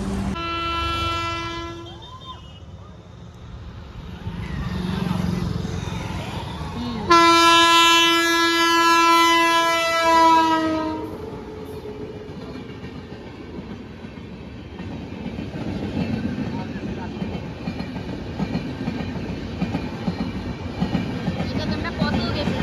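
The Uttarbanga Express passes close by with loud blasts of its horn, first a shorter honk and then a long sustained one, followed by the fading rumble and clatter of the train's wagons.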